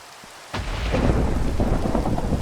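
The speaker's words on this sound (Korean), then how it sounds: "천둥이 너무 많이 치는데" Heavy rain and rolling thunder in a modded video game, starting abruptly as a loud rumble over a dense, steady wash of rainfall, with no talk.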